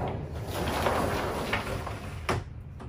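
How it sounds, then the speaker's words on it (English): Small sliding bathroom door in a 2021 Grand Design Imagine XLS 22RBE travel trailer rolling along its track, a steady rumbling slide ending in a sharper knock as it stops, close and fairly loud. "And then this sliding little door here."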